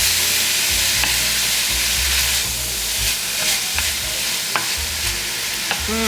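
Crumbled ground beef sizzles loudly in a hot pan for spaghetti while a utensil stirs and scrapes it, a continuous close frying hiss broken by regular scraping strokes.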